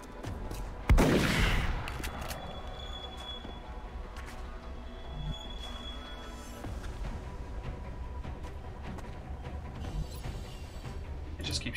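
Gunfire in XCOM: Enemy Within, Long War mod, opens with one loud burst of shots, then a steady busy wash of combat noise with smaller repeated cracks running through the rest of the clip.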